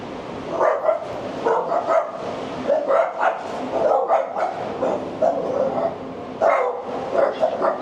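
Several dogs bark repeatedly in the enclosed kennel area aboard a Brittany Ferries ship, overlapping yips and woofs in irregular bursts, moderately close.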